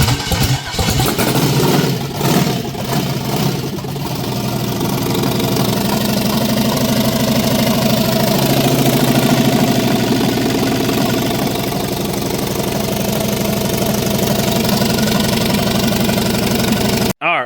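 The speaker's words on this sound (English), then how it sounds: "All right, first crank up went good." A 3,000 hp LS engine fires for the first time, cranking briefly and then catching into a loud, rough, steady idle that rumbles close by before cutting off abruptly at the end.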